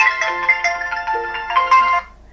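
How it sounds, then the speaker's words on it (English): A phone ringtone plays loud and close for an incoming call, a bright repeating electronic melody lasting about two seconds before cutting off. "There's David's ringing me."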